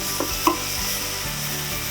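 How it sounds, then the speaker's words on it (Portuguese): Shrimp searing in a very hot frying pan for risotto, a low steady sizzle with a couple of soft clacks of utensils against the pan, no voices. "é importante a frigideira estar bem quente, né? Para só selar o camarão."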